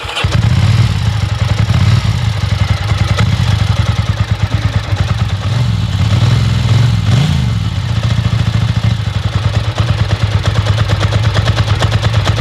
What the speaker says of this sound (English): So now we're going to warm up the motorcycle.